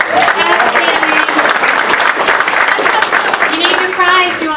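Lively applause from attendees at a legislative advocacy training conference, with dense clapping all the way through and voices and cheers mixed in, loud and close.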